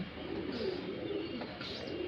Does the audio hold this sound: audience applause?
no